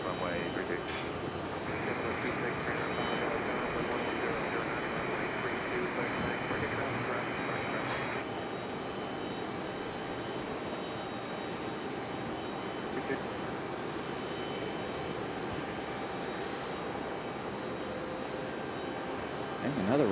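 A jet airliner arrives at Raleigh-Durham International Airport, its engines producing a steady, sustained roar and whine that stays fairly constant throughout, heard at a moderate distance with no talk.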